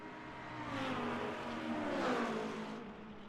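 Race cars in the video game Le Mans Ultimate, during a 24 Hours of Le Mans league race, roar past with a broad engine wash that swells and eases, fairly loud and with no voices.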